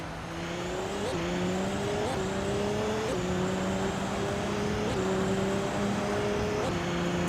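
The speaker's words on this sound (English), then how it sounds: "driving a 2015 Audi R18 e-tron Quattro in LMP1" A 2015 Audi R18 e-tron Quattro LMP1 prototype racing in a video game, its engine droning steadily and loud with repeated rising gear-change pitch sweeps as it accelerates through gears, tire noise underneath.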